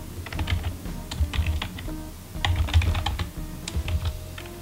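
Fingers type HTML code for an Angular app on a computer keyboard, quick bursts of close, crisp key clicks broken by short pauses.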